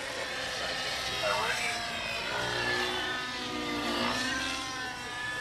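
An RC helicopter with a 90-size engine flies aggressive 3D maneuvers at a distance, a continuous high-pitched engine whine rising and falling in pitch, under a voice talking.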